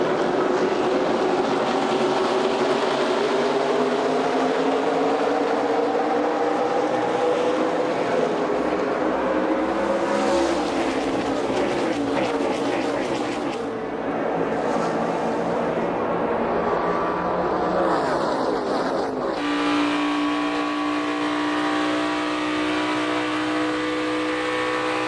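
NASCAR Sprint Cup race cars roaring around Talladega during the 2014 Geico 500, a loud continuous pack of engines with pitch shifting as cars pass, crowd and track noise beneath.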